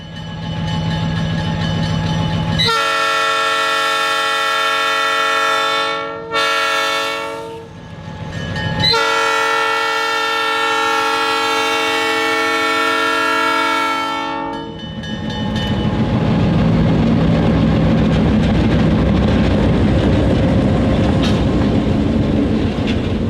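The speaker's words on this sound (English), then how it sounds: "We stumbled upon the Valdosta Railway on this windy November morning as they were switching cars around the PCA facility." Valdosta Railway freight locomotive switching cars at an industrial facility on a windy morning: a loud, sustained horn sounds in two long blasts close by, followed by the rumble and clatter of rolling cars.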